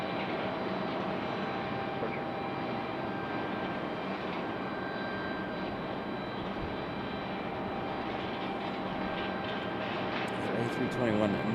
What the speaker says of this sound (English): That American A321.